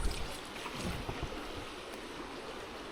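A deep, fast-moving river in North East Victoria rushes and burbles steadily during fly fishing, a continuous close wash of water with no voices.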